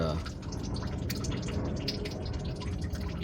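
Coolant drains from a 2013 Toyota Sienna during a coolant replacement, a steady close trickle and patter of liquid running continuously into a catch container.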